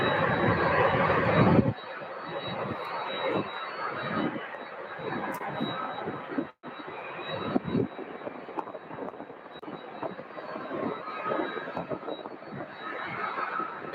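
A UPS cargo jet rolling down the runway for takeoff at Louisville airport, its engine roar building and sustained for several seconds, distant and broadband, with occasional faint voices nearby.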